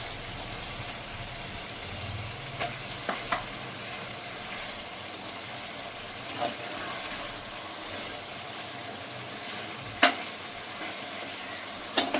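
Catla fish pieces frying in a mustard, poppy seed and cashew-peanut masala give a low, steady sizzle. A few soft clinks and scrapes of stirring break through, with a sharper knock near the end.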